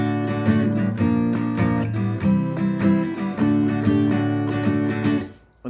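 Acoustic guitar strums the third line of a song, steady rhythmic chords played close and clear, alone with no voice, ringing out at the end.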